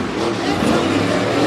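A black and green Ford Raptor racing truck roars loudly and continuously in a short burst of dense engine noise at a truck race.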